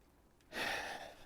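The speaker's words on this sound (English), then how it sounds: "You guys already hear how I'm breathing right now" A single heavy exhale, close and breathy, from a man worn out after folding a Dualtron Thunder 2 electric scooter.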